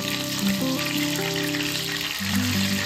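Battered prawns deep frying in very hot oil give a steady, close sizzle that runs the whole time beneath prominent background music.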